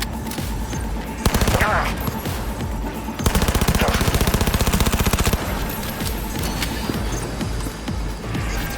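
Rapid automatic gunfire from Cyberpunk 2077 combat, with loud sustained bursts in the middle and scattered shots around them. Game sounds and voices carry through the rest of it.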